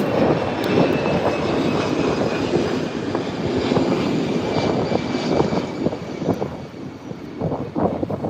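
An American Airlines jet airliner roars as it takes off near St. Thomas harbor, a broad sustained rushing drone heard from a moderate distance, with some wind buffeting and no voices.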